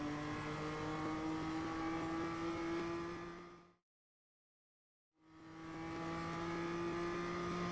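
A BMW race car engine in the iRacing sim roars steadily at high revs with a constant droning pitch, cuts to complete silence for over a second, then returns just as loud.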